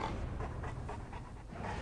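Guard dog such as a mastiff panting steadily in rapid rhythmic breaths, close and fairly quiet, with no voices.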